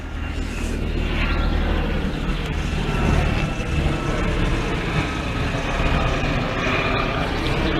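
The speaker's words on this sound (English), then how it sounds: "Aeroplane!" A fixed-wing aeroplane passing overhead near a level crossing on Doddington Road, a broad steady engine roar with low rumble that holds level throughout, fairly loud and unbroken with no voices.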